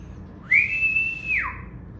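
A single clear whistle rises to a high sustained note, holds for about a second, then slides down and fades.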